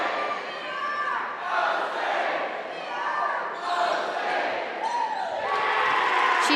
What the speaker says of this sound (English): It's time for Susie Brando, the We Are Osage cheer.